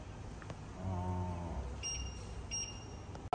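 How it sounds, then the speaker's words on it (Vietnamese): Kitchen timer being set while pumpkins steam, giving a few short electronic beeps, then a pair of higher tones, fairly close and clear over quiet room noise. "Ba hẹn giờ đấy nhá, ba hẹn giờ nào."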